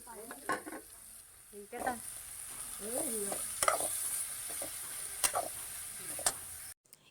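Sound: sautéing onion, green chili, capsicum, carrot and beans

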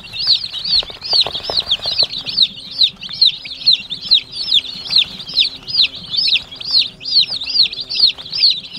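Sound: chickens clucking

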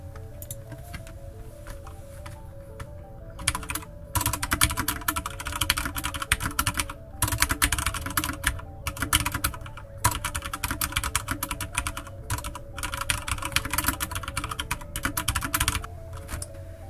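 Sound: typing on a mechanical keyboard

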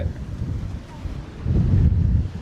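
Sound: strong wind at the seaside

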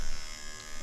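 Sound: electric cactus razor buzzing

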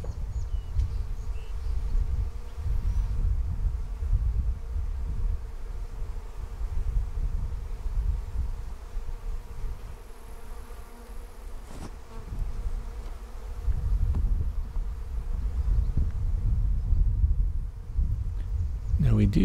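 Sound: honey bee swarm buzzing

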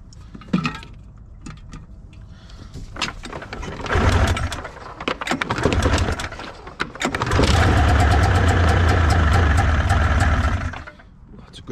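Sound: 1988 Arctic Cat Cougar 500 snowmobile engine pull-started

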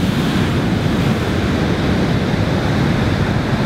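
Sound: Pacific Ocean waves on a California beach

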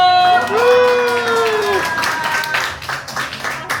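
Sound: applause from guests

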